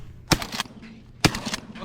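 Two loud shotgun blasts ring out about a second apart during an outdoor pigeon hunt with large flocks, each a sharp crack with a brief echoing tail.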